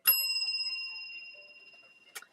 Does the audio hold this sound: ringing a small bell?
yes